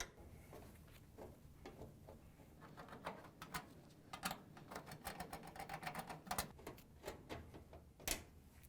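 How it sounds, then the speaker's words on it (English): A Torx 20 driver works the screws out of the top of a GE washer's control console, giving faint, close, irregular ticks and clicks without any talking. "Then we can use a torque 20 driver to remove the 4 screws across the top of the console."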